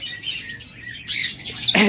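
Caged pet birds at a Bangladeshi bird seller's shop squawk and chirp in shrill bursts, with a sharper, louder cluster of calls near the end, close by and without talk.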